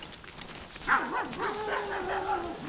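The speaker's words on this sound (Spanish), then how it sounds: "Ahí están los perros, chiquillo." Hunting dogs on a rabbit hunt bay and yip in a drawn-out, wavering chorus at middle distance, rising and falling in pitch over open ground.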